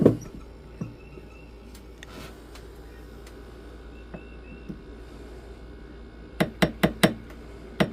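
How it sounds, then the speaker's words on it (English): Sparse metallic taps from a ball peen hammer ring out, then a quick run of about five sharp hammer strikes near the end over a quiet room. "We're just tapping with our ball peen hammer and then using the rubber mallet on the mandrel."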